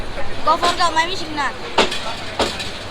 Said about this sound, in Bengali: আমাদের ট্রেনটা এখন গফরগাঁও থেকে ছেড়ে দিল